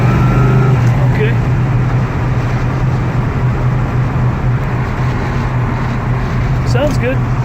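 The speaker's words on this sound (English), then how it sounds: "just kind of show the car going down the road straight." A 1970 Chevrolet El Camino SS drives down a road with a loud, steady low engine drone and road rumble inside the cab, a constant hum throughout with people talking faintly over it.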